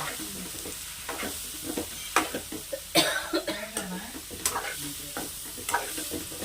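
Shark puttu, a crumbled shark fry, stirred in a hot pan with a steady sizzle and irregular scraping strokes, plus a brief cough partway through.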